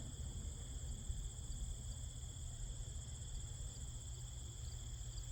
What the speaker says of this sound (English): crickets in the background